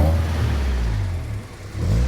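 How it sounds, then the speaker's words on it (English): A Toyota Sprinter Trueno AE86 with its early 4A-GE engine rumbles close by as it pulls up, a steady low engine note that dips briefly and then swells again, with no voices. "Sprinter Trueno just pulled up"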